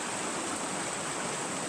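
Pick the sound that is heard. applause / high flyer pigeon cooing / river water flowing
river water flowing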